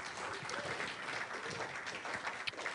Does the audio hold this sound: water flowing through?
no